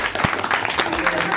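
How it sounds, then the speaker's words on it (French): A brief burst of audience applause and clapping during a reaction show, loud and close, with voices talking and calling out over it. "on applaudit Chess, s'il vous plaît"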